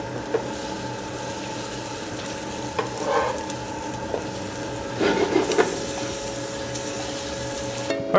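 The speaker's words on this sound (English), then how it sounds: "just cook your pupusas in batches, kind of like you're doing pancakes." Pupusas cooking in batches in a pan give a continuous close sizzle with a few soft scraping and shuffling bursts as they are handled, steady and moderate in level, with no talking.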